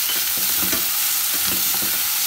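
Green chillies and chopped garlic frying in hot oil for aloo cutlets, a loud, dense, continuous sizzle heard up close, with faint stirring knocks underneath and no talking.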